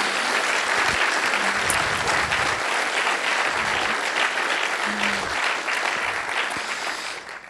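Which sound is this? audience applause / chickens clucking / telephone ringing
audience applause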